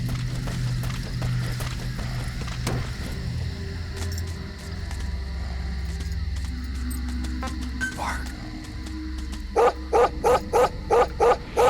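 A dog in Metal Gear Solid V: The Phantom Pain barks near the end, a quick run of six or seven loud, regular barks. A steady game soundscape with hoof-like clopping plays underneath.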